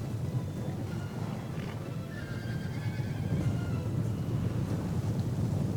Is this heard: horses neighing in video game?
yes